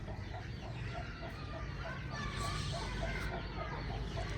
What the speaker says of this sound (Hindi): शबाज दाना डाल लेता है मुर्गी के बच्चों को और मुर्गियों को